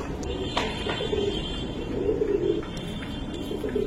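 Giribaj pigeons coo in a loft, soft repeated throaty coos rising and falling against a busy background with faint clicks and movement, fairly close.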